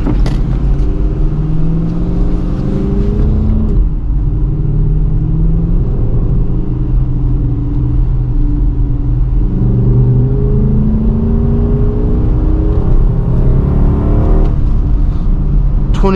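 Engine of a Dodge Charger R/T AWD driving at night on a cold rural road, a steady low rumble with slowly rising and falling tones as it accelerates and shifts, continuous and close throughout.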